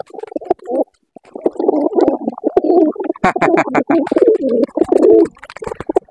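Pigeons coo inside a pigeon loft, several close, loud, rolling throaty calls overlapping almost continuously, with short gaps and a few wing flutters.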